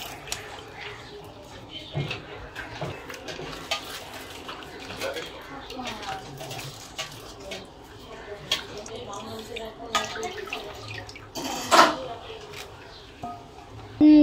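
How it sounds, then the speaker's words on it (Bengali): A hilsa fish is rinsed by hand in water, with splashing, dripping and wet squishing at close range, a couple of louder splashes standing out near the end, and low indistinct voices in the background. "দেখুন মাছটা আমার ভালো করে আমি ধুয়ে নিয়েছি।"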